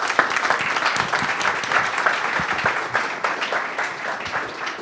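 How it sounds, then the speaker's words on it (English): An audience at a tech talk applauds a speaker, dense clapping from many hands filling the room at a steady level, with a few sharper individual claps standing out. "give Mark a nice round of applause"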